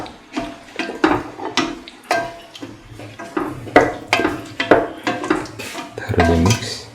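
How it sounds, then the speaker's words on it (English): Cooked lentils are stirred together with tomatoes and onion in a pan, giving repeated close scrapes and clinks of a utensil against the pan in an uneven rhythm. "Mix the cooked lentil with the tomatoes and the onion."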